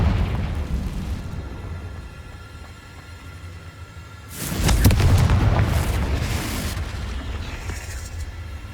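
A loud, rumbling explosion bursts out about midway through as the Confringo blasting spell detonates in Hogwarts Legacy, swelling with a broad low roar over continuous game ambience, then slowly fading into a lingering rumble.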